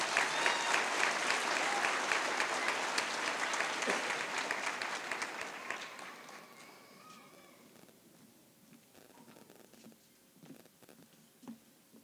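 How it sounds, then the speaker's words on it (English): Audience applause at a school graduation ceremony, full steady clapping for several seconds that thins and fades to scattered claps and faint voices as it dies away. "let's give them a round of applause as they come give their remarks"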